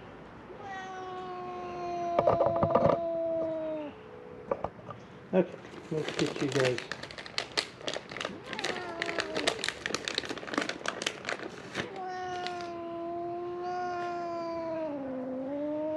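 Feral cats at Mare Island Naval Shipyard in Vallejo, California meow and caterwaul while being fed, several drawn-out cries near the mic amid food-bag crinkling and rustling, with a person talking briefly.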